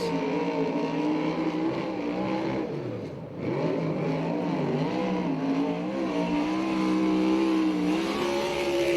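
A USAC/CRA sprint car on a qualifying lap at Alger, Washington, roars loudly and continuously, its engine pitch rising and falling through the turns as it circles the track alone.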